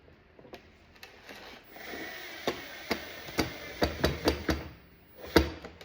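Gold screws being driven back into glove box trim by hand, a quiet series of sharp ticks and clicks in an irregular rhythm, bunching together near the end over faint background hiss.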